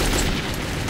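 A single heavy gunshot from the video game Metro 2033, a loud, dense boom that fills the whole short moment without any talk over it.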